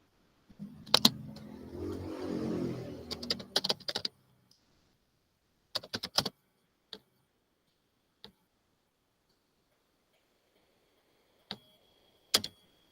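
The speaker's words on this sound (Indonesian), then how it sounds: "saya lagi ngetik ya" Typing on a computer keyboard during an online meeting, scattered bursts of sharp close clicks separated by long silences, with one longer rustling passage near the start.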